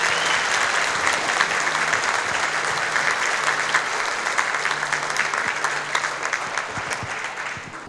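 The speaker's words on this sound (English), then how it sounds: "Please give them all a big applause for me." A crowd applauds steadily for a school district's board of trustees at the Asia Times Square opening of a Lunar New Year flower market night, sustained dense clapping throughout with a faint voice or tone underneath.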